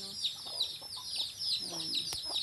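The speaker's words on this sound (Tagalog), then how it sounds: "nandito kasi maingay ang mga manok" Noisy chickens cluck repeatedly nearby in a yard, with rhythmic squawking calls and a faint voice in the background.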